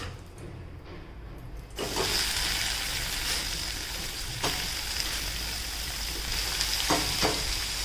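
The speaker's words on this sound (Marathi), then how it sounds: "आपला तूप वितळलेला आहे त्यामध्ये आपण आता डाळ टाकून घेऊयात" A loud, steady sizzle of lentils frying in melted ghee starts abruptly and continues, with occasional scraping stirs over the crackling hiss.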